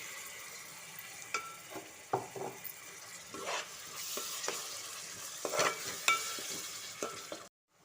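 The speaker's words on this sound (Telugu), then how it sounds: "మసాలా వేసుకున్నాం కదా, ఇదైతే బాగా ఫ్రై అవ్వనివ్వాలి" Onion, green chili and tomato paste masala frying and being stirred in a pan, with a steady close sizzle and intermittent scraping stirs. No one talks.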